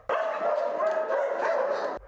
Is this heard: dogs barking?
yes